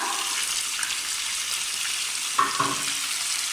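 A steady, loud sizzle of chicken frying in a pan with tomatoes, spices and ginger-garlic paste for korma, with a brief stirring clatter partway through.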